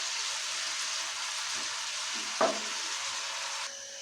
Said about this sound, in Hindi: प्याज को हम हल्का ब्राउन होने तक फ्राई करेंगे।